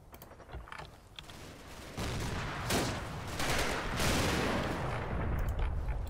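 A 75mm artillery shell from Combat Mission: Battle for Normandy lands in the middle of a road amid rattling gunfire, a sudden loud blast at about two seconds followed by a sustained rumble and a second surge, with no talk.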